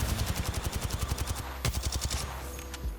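A whole magazine emptied in Apex Legends on the World's Edge map: a rapid, steady stream of close automatic shots, with one sharp louder crack midway before the firing trails off.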